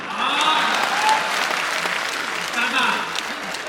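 A large audience at a Shravan Dham Mahotsav religious discourse claps continuously and loudly as a chapter ends, a dense, even wash of applause lasting several seconds.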